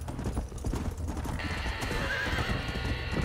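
Horse hooves in Red Dead Redemption clop in a fast, continuous galloping rhythm, close and steady, with a horse's whinny and game ambience layered over them.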